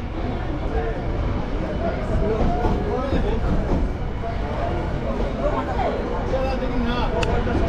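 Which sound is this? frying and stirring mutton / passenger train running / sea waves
passenger train running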